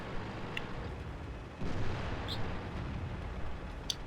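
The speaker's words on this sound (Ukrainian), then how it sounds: "Так, намагався тут в когось постріляти." A heavy tank gun booms once in World of Tanks, a Panther 2 battle, its deep blast swelling into a rumbling tail amid faint crackling battlefield noise.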